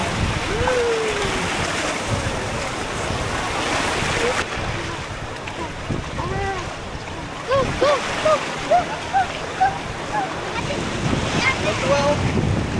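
Sea waves washing onto a beach during a group outing, a continuous roar of surf mixed with wind buffeting the microphone, with people talking and calling out over it.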